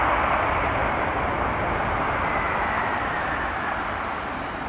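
A jumbo jet cargo aircraft, once used as a fire bomber, gives off a steady, loud, broadband engine roar. It holds at a near-constant level and fades only slightly toward the end, with no voices over it.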